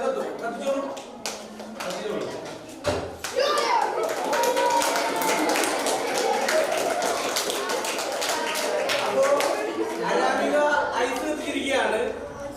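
Audience clapping at a school science show, a dense sustained patter of many hands that runs continuously through the clip with a brief dip near the start, fairly close and loud.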